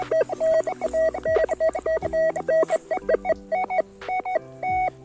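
Rutus Atrex metal detector used in water giving repeated short electronic beep tones, a rapid rhythmic series of steady pitched pulses at moderate loudness, with no talk.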